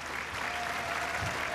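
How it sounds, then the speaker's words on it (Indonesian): Studio audience applauding on an Indonesian dating game show, a steady, dense wash of clapping that fills the whole moment without a break. "Tepuk tangan dulu untuk Yunita"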